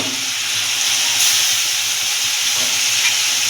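Ginger, garlic and onion paste with cumin powder, coriander powder and chili paste fries in a pan, giving a loud, steady sizzle that runs unbroken throughout with no talking.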